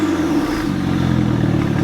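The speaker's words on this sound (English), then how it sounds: "even the fucking turbo and the blow-off valve sounds different" A tuned BMW 335i turbo engine revs loud and close, a harsh mid-pitched roar that shifts tone partway through as boost releases, with no talk over it.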